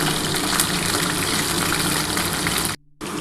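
Chicken pieces for dry chilli chicken fry in hot oil, giving a steady, loud, broadband sizzle. It cuts out briefly near the end, then resumes.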